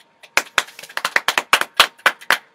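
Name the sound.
audience applause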